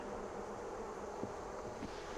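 Bees from an open hive drone in a steady, faint buzz that holds through the whole stretch, with a couple of brief louder passes and a light breath of wind, no one talking.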